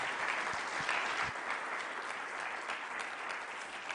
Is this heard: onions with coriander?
no